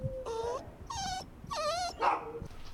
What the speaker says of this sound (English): This dog next to me has been whimpering for the past 15 minutes.